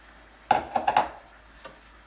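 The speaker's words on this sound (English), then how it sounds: "when stirring your scrambled eggs, you can stir them for as long or as little as you want" A utensil stirs scrambled eggs in a pan: four quick scrapes and clicks in a row, then a fainter tap, over a quiet background.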